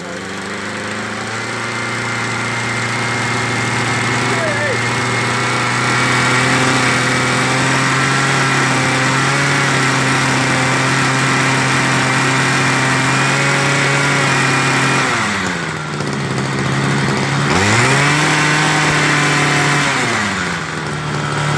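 Homelite 26cc hedge trimmer engine running steadily on full choke, a loud, continuous small two-stroke drone with a brief dip in revs near the end before it picks back up.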